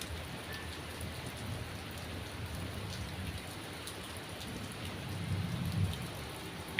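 Steady rain pours throughout with low, rolling thunder rumbling beneath it, building slightly near the end; a dark storm ambience with no voices.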